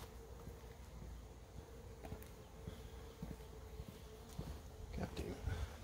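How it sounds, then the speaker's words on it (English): A bee swarm around a water meter box gives a faint, steady buzzing drone under low outdoor background noise, with a few soft rustles and knocks. "why are there bees going in?"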